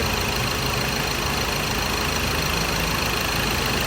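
A car engine runs steadily and loudly throughout, a dense constant rumble with no clear rise and fall in revs, heard alone without talk on a dark rainy evening.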